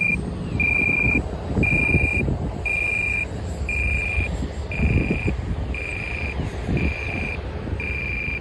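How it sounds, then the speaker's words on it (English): An RC plane's battery alarm, on an E-flite Habu STS, chirps in a steady string of short, evenly spaced high beeps, about one per second, over outdoor wind and rumble. "The battery alarm started going off"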